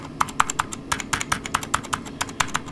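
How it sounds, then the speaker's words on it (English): Clicky mechanical keyboard keys on an old thrift-store keyboard being pressed in quick irregular bursts, crisp close clicks about four to five per second with no voices. "This is definitely a clicky key keyboard."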